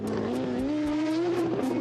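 A Matra Jet mid-engine sports car drives past up close, its engine giving a steady, slightly rising buzzing drone with a strong harmonic whine and faint tire noise.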